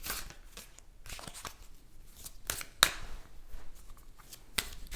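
Tarot cards being drawn and shuffled, a run of soft, quiet riffles and slides with a couple of sharper snaps standing out, no voices over the handling.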